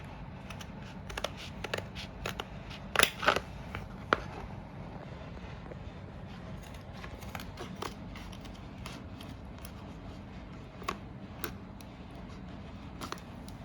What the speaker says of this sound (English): Now I'm going to put the card correctly in the shape in the texture sheet and cut it.